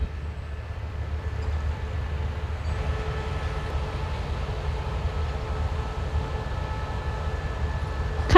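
A suburban train entering Hua Lamphong station in Bangkok gives a steady low rumble and rolling hum throughout, moderately loud and continuous, with a sharp brief clack at the very end.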